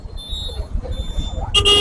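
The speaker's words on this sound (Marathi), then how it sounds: "इथं हॉर्न द्यावंच लागतं" A car horn sounds at a traffic signal in city traffic, a short sharp honk at the end after engine rumble, close and loud.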